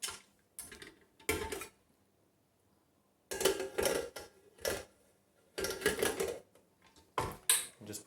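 Stand mixer fitted with a dough hook, running on low speed to stir yeast into pizza dough with honey, giving intermittent bursts of clattering mechanical rattle separated by quiet pauses, close and fairly loud.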